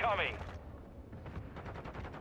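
Chopper gunner gunfire in Call of Duty: Modern Warfare 2, a short loud burst at the start, then fainter rapid repeated shots continuing behind.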